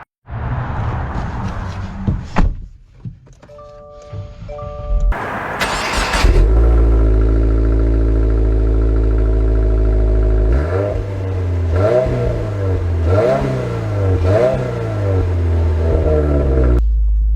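A 2023 Subaru WRX Premium with a manual gearbox starts with a sharp crank and catch, then idles, and the engine rises and falls through several revs as it pulls away, loud and close.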